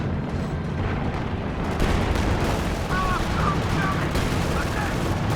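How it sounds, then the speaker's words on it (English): Artillery fire in the video game Company of Heroes 2 makes continuous loud rumbling explosions and dense gunfire, with voices faintly heard in the mix. "they're still hitting me with this artillery"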